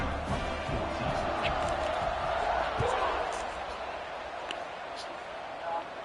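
Stadium crowd in a football video game cheering as a team lines up to kick off, a steady broad roar filling the whole stretch at moderate level with slight swells, a commentator talking over it.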